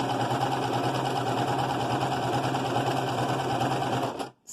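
A sewing machine stitches fabric for a face mask with ear loops, a steady fast mechanical whir held at an even level for several seconds before stopping abruptly.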